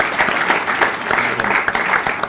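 Applause from an audience at a hospital process improvement workshop report-out, celebrating a team: steady, dense clapping from a full room with a few louder nearby claps, continuing throughout.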